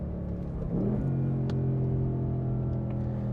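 A 2024 Ford Mustang Dark Horse engine revs, drops briefly during a no-lift gear shift, then settles into a steady, loud rumbling drone.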